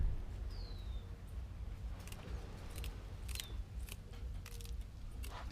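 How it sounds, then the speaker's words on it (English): Sharp snipping clicks of scissors trimming bones from lionfish, several quick cuts spaced unevenly over a low background rumble, close and fairly quiet. "We use the scissors to trim the bones off."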